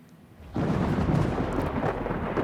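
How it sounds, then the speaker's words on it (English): A deep, roaring rumble of thunder bursts in after a quiet start and rolls on loudly and broadly for about two seconds without fading. "Thunder."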